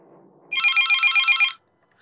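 A telephone rings in one loud electronic trilling burst lasting about a second, with a faint murmur before it and silence after.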